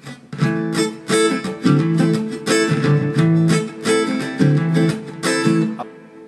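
Guitar strums the chords of a song in a rhythmic pattern, with clipped palm-muted strokes alternating with ringing chords, close and fairly loud, no voices.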